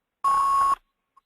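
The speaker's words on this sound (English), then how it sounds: "Getting kind of a beeping noise in the background." A single steady electronic beep tone, about half a second long, sounds clearly in the background, followed by a much fainter short blip.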